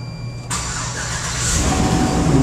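A van's engine cranks and catches at about half a second, then runs on at a steady, close idle that swells slightly toward the end, with no talking.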